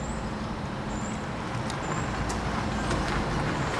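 A bus passing on a city street makes a steady, broad roar of engine and road noise that holds close and fairly loud for the whole stretch, with faint high squeaks and hisses on top.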